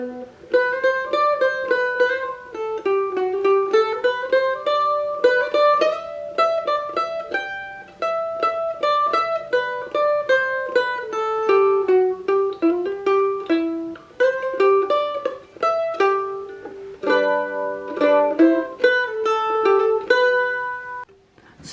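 The opening section of a song is picked slowly on mandolin, a continuous melodic line of crisp plucked notes and occasional double stops, near and solo without speech.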